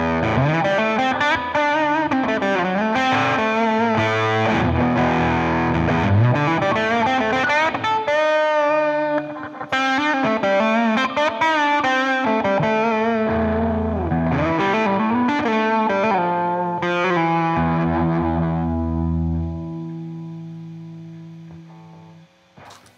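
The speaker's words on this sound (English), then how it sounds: "Let's play a little bit with the distortions." A Cort Yorktown hollow body electric guitar played through distortion, with sustained overdriven chords and melodic runs ringing loudly and steadily before a long final chord fades out.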